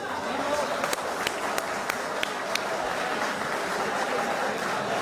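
An audience at a 2023 torch-lighting arts ceremony applauding a guest, steady broad clapping throughout with a few sharper individual claps standing out.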